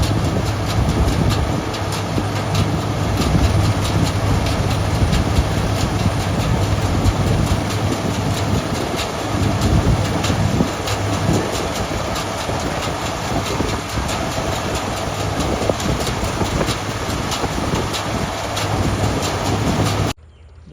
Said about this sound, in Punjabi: ਸਾਵਾਈ ਟਰੈਕਟਰ ਤੇ ਰਿੰਕੂ ਬਾਈ ਮਸ਼ੀਨ ਤੇ ਆ ਰਹੇ ਨੇ ਦੋਏ